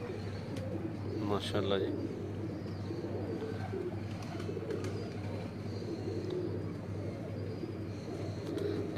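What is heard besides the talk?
pigeons cooing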